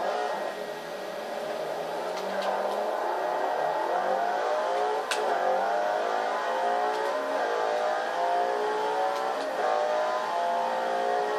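Car engine in Forza Horizon 2 revving steadily while driving at speed, a continuous loud drone rising and shifting in pitch with gear changes, with no talk over it.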